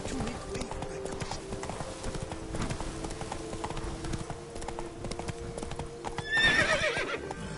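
In a video game, a horse's hooves clip-clop steadily at close range while a voice talks over them. A whinny rises near the end.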